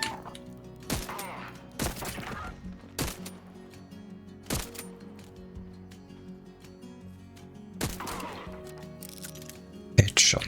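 Video game gunfire comes as scattered single sharp shots spaced a second or more apart, mixed with a player talking over the game.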